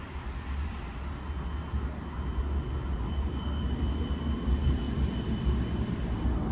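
A modern tram glides in over grassy track in Vitoria-Gasteiz at early morning, a continuous low rumbling hum with faint high whine, steady and gradually growing slightly louder as it approaches.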